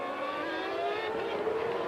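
Formula 1 race cars complete the opening lap of the 1994 British Grand Prix, a faint, continuous high-pitched engine whine from a distance that shifts slightly in pitch as the field passes.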